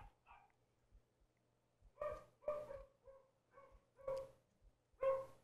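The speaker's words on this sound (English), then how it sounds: "So this is two dogs barking" Two dogs barking in a lab-like recording, a handful of short, fairly faint barks spaced irregularly and sometimes overlapping, with no talking.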